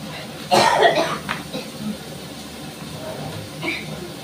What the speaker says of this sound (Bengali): ঠান্ডা গরমে প্রচন্ড কাশি হয়েছে